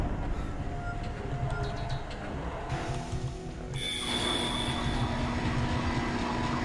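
A tram car pulls in inside a Dead Space space-station transit system, a steady rumbling, rolling mechanical drone with a shift in tone partway through as it arrives, heard alone and fairly close.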